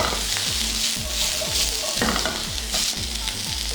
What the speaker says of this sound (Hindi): मैं डाल दिया कैप्सिकम। तो करेंगे अच्छा से सौते